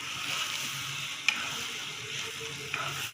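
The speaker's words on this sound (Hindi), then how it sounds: "5 मिनट तक मैं अच्छी तरह भून लेती हूँ।" Minced meat (qeema) fries with spices in ghee, a steady close sizzle with a couple of light clinks of a stirring spoon.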